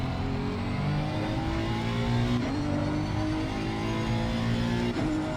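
Honda NSX EVO GT3 race car engine in the game Assetto Corsa Competizione, a loud steady high-revving drone with rising pitch and brief shift dips, close and continuous with no talk.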